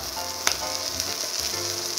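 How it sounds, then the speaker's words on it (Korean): Oyster pancake batter fries in a hot pan with a continuous bright sizzle and crackle, with a few sharper pops and scrapes, close and steady with no talking. "물이 계속 나와요, 보시면. 지글지글, 재글재글 하면서."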